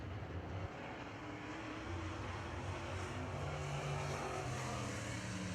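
A late model race car engine holds steady on the throttle down the front straightaway of a speedway after a wreck, a loud continuous drone with a low rumbling tone and no talk over it.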